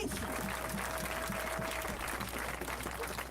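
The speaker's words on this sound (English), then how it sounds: "Give yourself a round of applause, y'all!" A Colorado Black Lives Matter protest crowd applauds in a steady, dense wash of clapping and noise, with a voice briefly rising above it.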